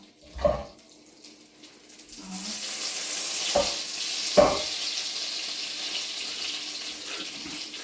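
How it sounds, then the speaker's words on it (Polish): Butter frying in a pan for mackerel, a steady hiss of sizzling that builds after a couple of seconds and continues throughout, broken by a few sharp clinks and taps of utensils. "bo mi się już pali masło"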